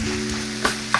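Turkey taco meat frying in a pan gives a steady, close sizzle with a low hum underneath and two brief sharp crackles, no voices.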